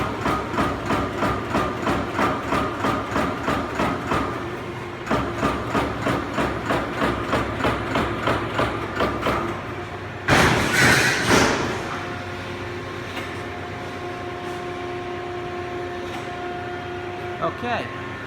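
A Euromac CNC punch press runs its test program, thumping in a steady rhythmic cycle of punch strokes, then a loud hissing burst, followed by a sustained mechanical hum with whining tones.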